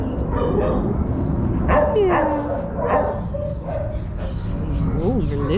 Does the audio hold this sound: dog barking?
yes